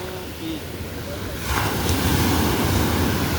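Ocean waves break on a Goa beach in a broad, steady roar mixed with wind buffeting the microphone. The surf swells louder after the first second and a half and stays close and continuous.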